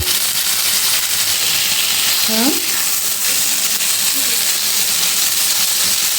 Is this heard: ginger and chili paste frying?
yes